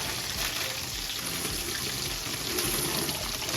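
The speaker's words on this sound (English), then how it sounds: "after my water starts boiling, I'm going to go ahead and add my shells in" Dry pasta shells pour into a pot of boiling water on a stovetop, giving a continuous close splashing and bubbling rush with no talk over it.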